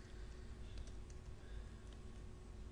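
Soft keystrokes on a computer keyboard as Visual Basic code is typed, faint clicks scattered under a steady background hiss.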